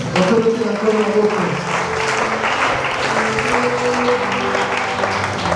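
A church congregation applauds at a sermon, a loud, dense stretch of clapping from many hands with voices mixed in beneath it, sustained throughout.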